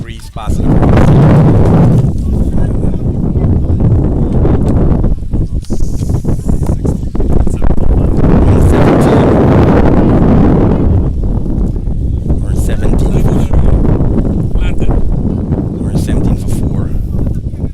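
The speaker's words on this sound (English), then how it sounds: "Nice breeze passing across." Gusty wind buffets the microphone at an outdoor cricket ground, producing a loud, continuous low rumble with rustling surges, heard throughout under a commentator's steady talk.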